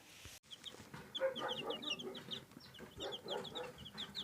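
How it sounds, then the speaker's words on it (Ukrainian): Many small birds chirp and cheep in quick overlapping peeps, a busy, steady chatter close by with no talking. "Курчатка гарно ростуть, їдять, все чудово тут."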